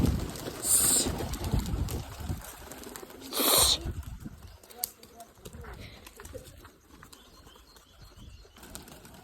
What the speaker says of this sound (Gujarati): તો ફાઇનલી હે ને બધા કબૂતરા ઉડી ગયા છે.